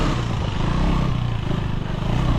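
A KTM 390 Enduro R motorcycle ridden in laps, a dense steady engine drone with rough clattering texture, loud and close, wind rush mixed in throughout.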